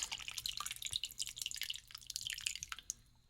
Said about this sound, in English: stir it all together and pour it over into the crock pot